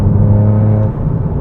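A Toyota GR Yaris with an MG Motorsport OPF delete exhaust drones loudly and close at a steady engine note, dipping slightly near the end.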